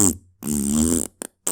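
A cartoonish fart sound effect from an animated comedy: a short burst, then a longer loud, wet, buzzing blast, followed by two brief sharp puffs, all close and alone with no talk.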